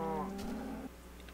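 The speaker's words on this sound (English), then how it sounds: "You cows are really, really loud." A single Minecraft cow gives a short, low moo that fades quickly, heard on its own against a steady background hum.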